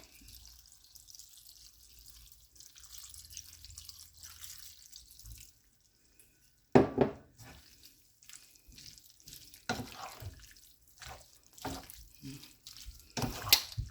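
Coconut cream, one and a half cups, goes into a pan of Jamaican-style shrimp pasta: a soft liquid pour and faint bubbling, then sharper wet splashes and stirring clatter, all fairly quiet and close.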